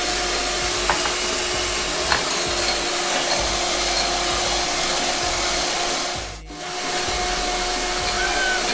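A handheld frother stick whirs steadily while mixing an iced coffee mixture, a continuous close motor buzz with a brief dip near the end, no voices.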